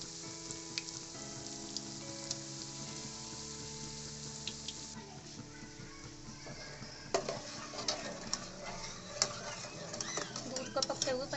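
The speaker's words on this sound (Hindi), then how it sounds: "अपने सारे ब्रेड इसी तरह फ्राई कर लेंगे।" Bread slices fry in a pan for shahi tukda with a continuous soft sizzle, a steady hum beneath, and louder crackles and clinks near the end.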